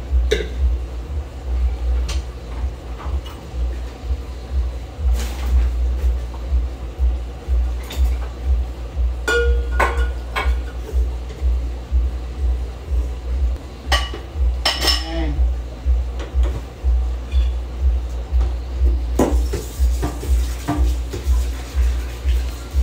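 A rice cooker pot handled at home, with clinks and knocks of metal and dishes at irregular intervals, some sharper rings close by, over a steady low hum.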